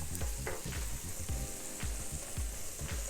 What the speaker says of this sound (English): we have our onions. And we are gonna toss them around just a bit.